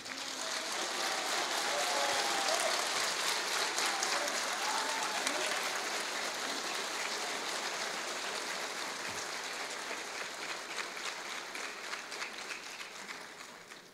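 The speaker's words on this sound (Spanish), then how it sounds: "especialmente pido un aplauso para Jacqueline Ahumada." Audience at a municipal public accounts event gives sustained applause, a dense wash of many hands clapping that swells early and slowly tapers over about fourteen seconds.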